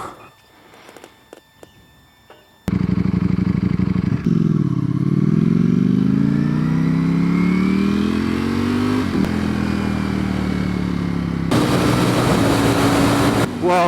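A new motorcycle engine fires up after a quiet start, then runs and revs in rising and falling sweeps, loud and close, with a sharp burst of revving near the end.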